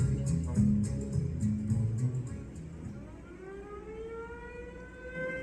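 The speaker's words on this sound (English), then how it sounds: "just as the ferry building siren was sounding the 8 o'clock alarm for downtown San Francisco" The San Francisco ferry building siren sounds the 8 o'clock alarm downtown, a long wailing tone that rises and sustains over background rumble, with short clanks early on.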